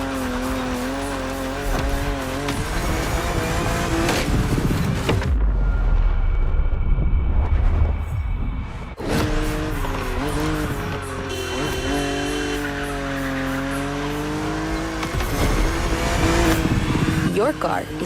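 A BMW Z4 E89 coupe cabriolet races in The Crew Motorfest, engine revving and shifting with squealing tires, joined by a deep rumbling blast midway, while a voice talks over much of it.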